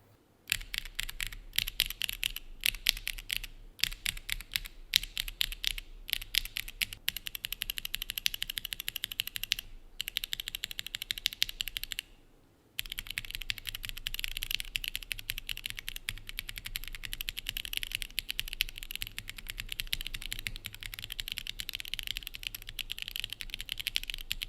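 Typing on a mechanical keyboard fitted with CTID Azurite switches gives a quiet, steady run of soft keystroke clicks with a brief pause midway.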